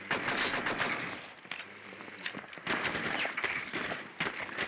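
Video game gunfire in a one-versus-one match comes as bursts of sharp shots and rapid volleys with short gaps between them, at moderate loudness.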